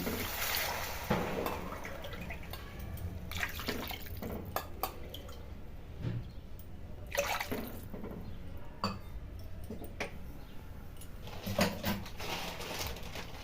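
Three cups of water are poured into a pan of cooked-down masala for Yippee noodles, a continuous close splashing pour with small drips and splashes, fairly soft.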